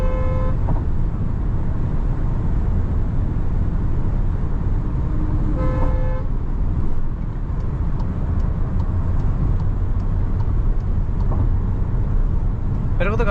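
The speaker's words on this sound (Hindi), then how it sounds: "मेरे को तो गाड़ी भगाने में मजा आना चाहिए।" A 2024 VW Tiguan 2.0 Elegance driven hard on the road, loud low engine and road roar filling the cabin, with passing car horns tooting briefly at intervals.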